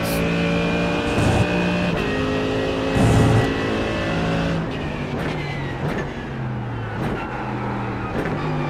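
A Mercedes driven hard around a race track, its engine droning loud and close with steady harmonic tones that rise and fall through gear changes and corners.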